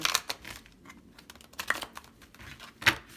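Tarot cards are shuffled in a rapid, uneven flurry of soft riffling clicks and slaps, close and fairly quiet, with a few sharper snaps along the way.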